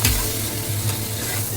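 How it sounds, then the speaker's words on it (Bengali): Capsicum, tomato and green chilli tempering sizzles steadily in hot oil in a pan while being stirred, a dense close frying hiss with a scrape near the start and no talking. "এই যে ক্যাপসিকাম, টমেটো আর কাঁচা লঙ্কা ফোড়নটা আমার ভাজা হয়ে গেল, 5 সেকেন্ড মতো একটু নাড়াচাড়া করলাম।"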